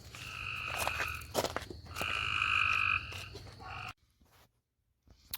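Outdoor croaking from a big frog or toad comes in several loud, rasping trills at close range over a low rhythmic engine thud, then cuts off into near silence.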